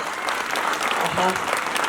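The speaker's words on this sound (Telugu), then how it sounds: "ఒక్కసారి ఇందాక డ్యాన్స్ చేసిన పిల్లలందరికీ మనం చప్పట్లు కొడదామా?" An audience at a Hindu community gathering claps for the children who danced, the applause dense and steady throughout with murmured voices mixed in.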